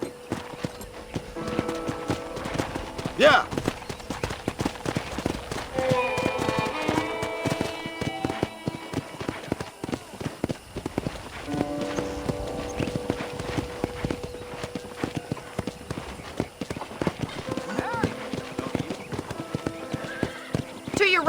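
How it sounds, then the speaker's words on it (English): Horse hooves clip-clopping at a steady walking rhythm while riding in the video game Red Dead Redemption, with occasional whinnies, background music and voices talking over it. "let's see if you can still ride a horse"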